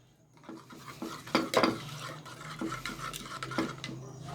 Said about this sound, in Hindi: और अब हम इसे अच्छे से मिक्स कर लेंगे।